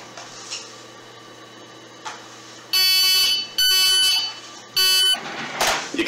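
An Arduino piezo buzzer sounds three loud electronic beeps, the first two long and the third shorter, over a faint background hum.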